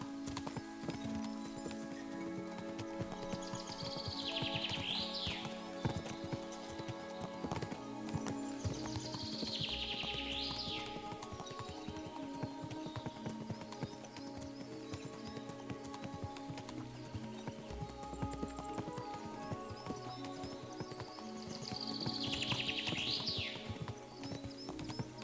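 Steady horse hooves clip-clop along beneath an ambient soundtrack in the video game The Devils Men, with occasional bird chirps rising above the trotting rhythm.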